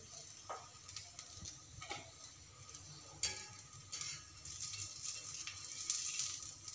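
Food shallow frying in a pan, a faint, close sizzle with light crackling and occasional ticks and rattles of a utensil.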